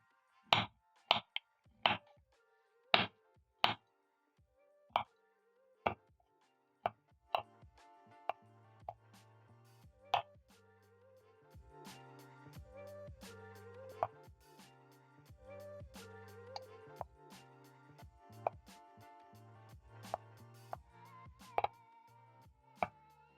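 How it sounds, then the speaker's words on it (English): A knife chopping chocolate into chunks on a board, sharp distinct taps in a steady, fairly quick rhythm, close and clear with soft background music. "I'll be cutting up huge chunks and fine so that each bite can be filled with chocolate bits"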